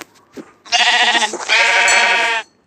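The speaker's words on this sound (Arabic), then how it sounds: "خروف" Sheep bleating in the video game Minecraft, two loud drawn-out wavering bleats one after another after a brief faint sound, clear and close with no talking.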